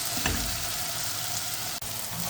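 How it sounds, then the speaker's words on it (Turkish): Tomatoes and green peppers sauté in a pan with a loud, steady sizzle close by, broken once by a brief dip as the vegetables are stirred. "Bunları da domateslerin üzerine atıyoruz. Bu şekilde kavuralım."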